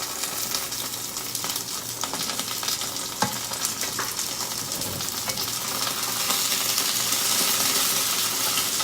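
Chicken pieces for Kung Pao chicken sear in a hot pan, giving a loud, steady sizzle and hiss that swells slightly toward the end, with a faint clack of a utensil, and no talking.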